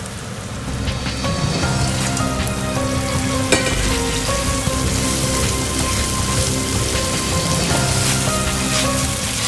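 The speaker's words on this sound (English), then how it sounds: "Stir the crawfishes evenly and fry them for 3 minutes." Crawfish frying in a pan with melted spicy soup base, a loud, dense crackling sizzle that holds steady throughout, with scattered pops and stirring knocks, close up.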